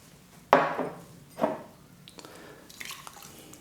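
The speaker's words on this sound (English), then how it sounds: "Just put in the water" Water is poured into a bowl of dark brown sugar for a salmon marinade, two short splashy pours a second apart, followed by faint clinks and rustles in a quiet kitchen.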